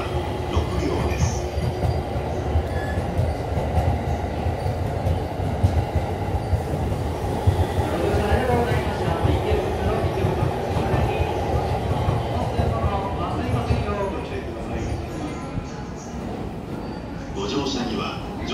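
A Tobu-JR through limited express, series 253, rolls through Ikebukuro Station with steady rumbling, clacking wheels and a faint squeal, while a platform announcement voice talks over it.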